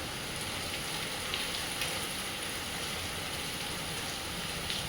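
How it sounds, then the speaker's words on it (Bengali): Heavy rain falls steadily around a veranda, a faint, even hiss of drops with a few soft patters, no talk. "খুব ভালো বৃষ্টি হচ্ছে"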